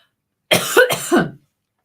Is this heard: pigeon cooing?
no